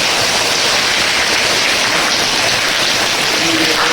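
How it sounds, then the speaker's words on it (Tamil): Heavy rain pours steadily outdoors, a dense, loud, continuous hiss of water falling with no break and no voices. "வெளியே போகலான்னு சொல்லிட்டு வந்து நின்னா இந்த அளவுக்கு மழை பெஞ்சு இருக்கும்."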